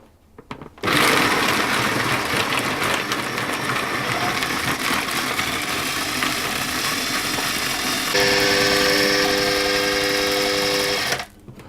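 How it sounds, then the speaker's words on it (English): A food processor runs steadily for about ten seconds, grinding cheesecake base ingredients into fine crumbs with a loud, continuous motor whir that shifts pitch slightly near the end before stopping. "I'm just going to process those until they've all broken down into sort of fine"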